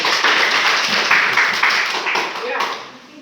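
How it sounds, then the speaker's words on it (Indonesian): A group claps for another group in a class, a steady patter of many hands that fades toward the end, mixed with talk from several voices. "ya kita tepuk tangan untuk kelompok 3"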